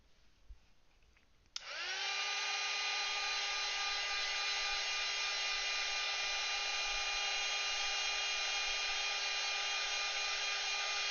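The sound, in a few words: hair dryer drying paint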